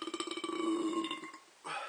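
A long, drawn-out burp with a rough, pulsing tone lasting over a second, loud and close, followed by a brief burst of another voice or noise at the end.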